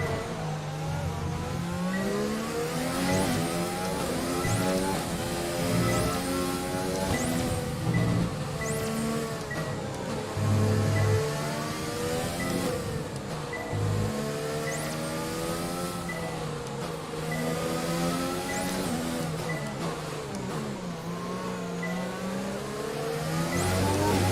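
A Formula 1 car engine in the racing game F1 2020 drones loud and steady at high revs, its pitch rising and falling through gear changes and corners while slipstreaming behind another car, with no talk.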